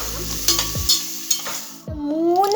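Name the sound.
tomato, carrot and capsicum being stirred in hot pan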